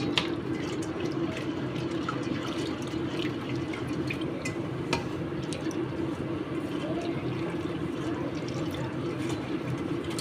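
Chana dal lentils are washed and rubbed in water by hand, with soft steady sloshing and small drips and splashes over a low background hum.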